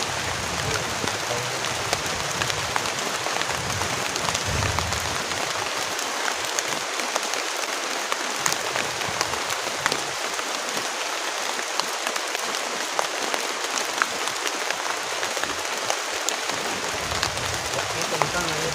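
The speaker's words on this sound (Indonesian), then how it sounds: "karena hujannya deras banget" Heavy rain pours steadily on a campsite during a stormy night of pitching a tent, a dense, loud hiss filling the whole stretch with voices talking over it.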